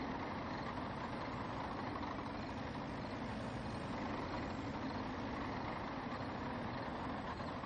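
A truck engine runs in Farming Simulator 19 while stuck in mud with a trailer: a constant low, rough engine drone that holds steady throughout, with no speech.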